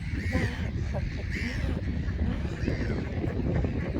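A flock of geese with goslings honks and cackles in a dense, continuous chorus near water, fairly close, with a few voices mixed in.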